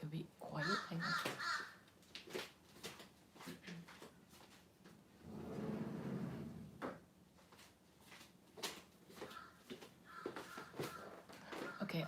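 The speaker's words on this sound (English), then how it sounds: "Sorry about the bird." A crow outside an open window caws repeatedly in loud, harsh bursts, mixed with a person speaking indoors and some knocking and shuffling noises.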